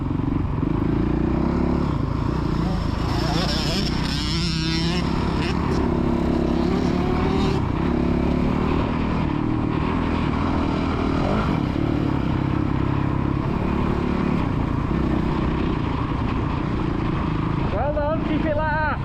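Kids' motocross motorcycle on the Astley MX main track, a continuous loud engine drone that rises and falls in pitch as it revs, with a voice talking over it.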